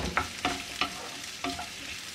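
Ginger fries in a pan as the base for a chicken curry, giving a soft, steady sizzle broken by four distinct scraping stirs, fairly faint, with no talking.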